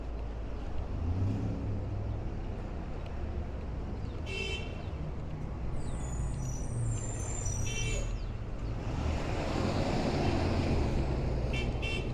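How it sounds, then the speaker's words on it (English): Street traffic idles in a jam on 20th Avenue in Bensonhurst, Brooklyn, with a steady engine rumble, hissing air brakes and several short horn toots heard at middle distance. "Got a little traffic jam over here."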